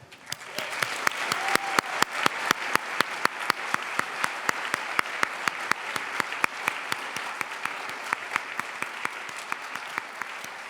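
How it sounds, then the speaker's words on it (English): An audience at the Radcliffe Day medal ceremony claps in a sustained, even round of applause, many hands producing dense steady clatter with a few louder individual claps standing out, no speech over it. "Please join me in a final round of applause for our medalist, our moderator, and our distinguished speakers."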